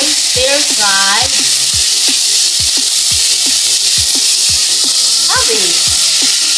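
Cabbage and egg stir-fried in a pot give a loud, steady sizzle, broken by regular scraping strokes of a utensil. Brief speech-like tones rise over the frying at two points.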